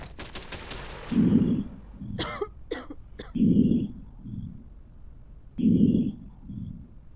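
In the video game Quarantine Zone, a patient coughs several times, sharp dry bursts clustered in quick succession around the middle, among softer muffled sounds.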